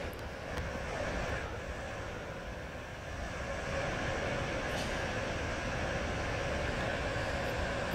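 A very slow train in a video game gives off a low, steady mechanical rumble and drone that holds at an even moderate level without clear breaks.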